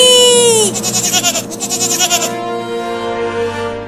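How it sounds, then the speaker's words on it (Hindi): A cartoon goat bleats loudly, a long wavering cry broken into rapid pulsing trills, heard up close over a musical background. "भाग बकरी।"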